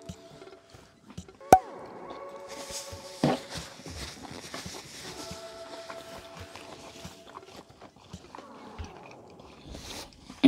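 Chewing bacon-wrapped stuffed jalapeño peppers with applewood smoked bacon, close crunchy bites and wet mastication with a sharp bite near the start and another a little later, amid quiet mouth noises.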